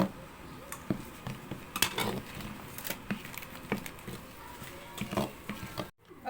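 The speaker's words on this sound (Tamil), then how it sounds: "போட்டு ரெண்டையும் நல்லா மிக்ஸ் பண்ணணும்" Spoon clinks and scrapes against a bowl while corn flour and rice flour are mixed together for eggless biscuit dough, producing irregular light taps and scraping at close range.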